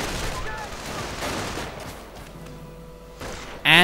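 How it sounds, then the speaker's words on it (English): MP-40 submachine guns blaze in a World War II strategy game, a dense, continuous rattle of automatic fire and battle noise, ending in a sudden loud burst. "MP-40s are blazing."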